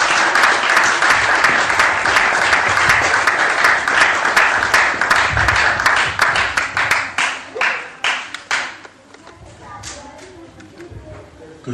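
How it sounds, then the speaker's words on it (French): A church congregation claps and cheers loudly in praise of the Lord, a dense burst of applause that thins into scattered claps and fades out, with voices mixed in. "On peut acclamer tous le Seigneur très fort"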